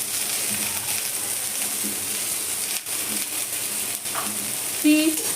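Tomato sizzling in a pan for a rohu fish curry, a steady hissing fry with light stirring scrapes, close and continuous.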